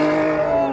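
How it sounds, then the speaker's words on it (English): A Lotus Emira V6 SE launches hard with its tyres spinning, the engine note rising in a loud, continuous tonal howl with a squeal mixed in, close and brief. "It's got enough power to spin the tyres."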